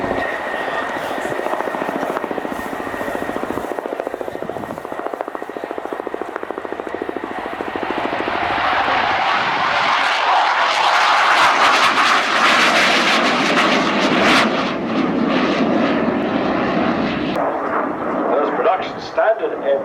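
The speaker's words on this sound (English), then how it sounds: "From Linea Aeronautica, the C-27J, Spartan." Alenia C-27J Spartan military transport flying at the Farnborough International Airshow, a loud steady engine roar that swells toward the middle and stays heavy to the end, with a commentator talking over it.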